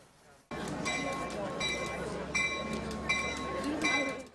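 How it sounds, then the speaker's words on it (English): Rumbling noise of trains coming and going in Simi Valley, with metallic squeals and clanks, steady and fairly loud after a quiet start, with voices faintly underneath. "The sounds of trains coming and going in Simi Valley"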